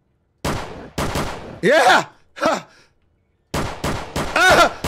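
Bursts of rapid gunfire in a horror video game, several loud close volleys separated by short gaps, mixed with shouted voices and groaning cries.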